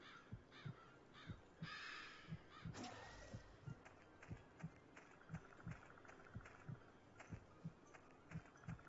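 In the horror video game Sanitarium, a crow caws harshly a few times over a steady, thudding heartbeat-like pulse that repeats evenly throughout.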